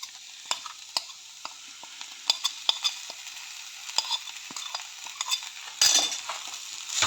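Spoon stirring ground pepper into a Kerala-style pepper chicken curry in a pan, with repeated light scrapes and clinks over a soft sizzle, ending in a louder burst of frying.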